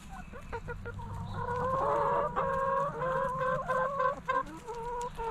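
Several chickens cluck and murmur continuously at close range, with overlapping calls and occasional sharper squawks.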